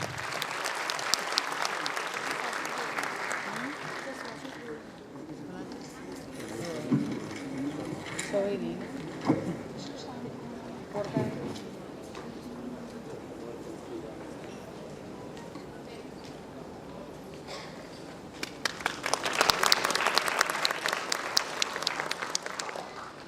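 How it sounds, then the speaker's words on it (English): Audience applause at a medical institute's first convocation ceremony fills the opening seconds, drops to a murmur of crowd noise and voices, then swells into a second loud burst near the end. "Please give a big round of applause, everyone."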